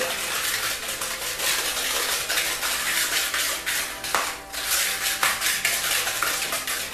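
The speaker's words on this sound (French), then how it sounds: "une tasse de cassonade, une demi-tasse de beurre, qu'on mélange ensemble, du beurre fondu, et on brasse" Brown sugar and melted butter being stirred together in a bowl for cookie dough, a steady close scraping and clinking of utensil against dish with no talk.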